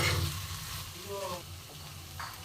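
Kulekhara greens frying in a pan with a little sugar added, stirred with a sizzling hiss and a few scraping strokes, close and moderately loud with no talk.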